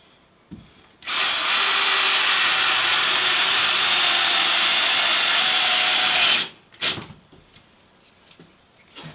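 Power drill driving stainless steel screws into drywall, one loud continuous whir lasting about five seconds up close, then stopping, followed by a few faint knocks and handling noises.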